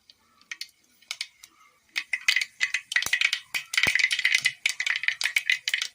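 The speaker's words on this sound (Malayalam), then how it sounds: "ഇനി ആ എണ്ണയിലേക്ക് അല്പം കടുക് ഇട്ട് കൊടുക്കാം." Mustard seeds spatter and pop in hot oil, starting with sparse crackles and building into a dense, rapid run of sharp snaps, close and lively with no talk.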